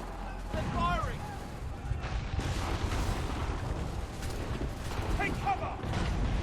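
Soldiers firing guns in Assassin's Creed 3, a dense, continuous clatter of gunfire and battle noise close by, with shouting voices mixed in over the shots.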